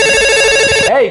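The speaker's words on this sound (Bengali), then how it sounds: "বউরে একটা ফোন দেই" A telephone rings steadily as a husband calls his wife, a loud, bright, continuous electronic ringtone that cuts off abruptly near the end, with a short voiced sound following.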